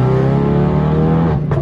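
Sports car engine revving loudly and steadily close by, a dense throaty drone with strong harmonics that dips briefly near the end.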